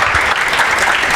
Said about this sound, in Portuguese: Dá um salve de palmas pro Valbert.